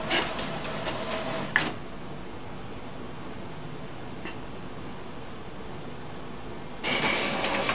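HP Officejet Pro 8620 printer copying through its document feeder: a loud mechanical whirring burst, then a quieter stretch of low hum and faint clicks before the feeding noise starts up again.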